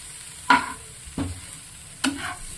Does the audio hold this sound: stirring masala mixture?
yes